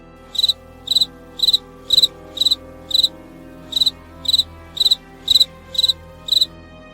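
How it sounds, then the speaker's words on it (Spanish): Crickets chirp at night in regular short pulsed bursts, about twelve evenly spaced trills, clear and fairly close over a quiet low background hum. "solo podía escuchar los cantares de los grillos"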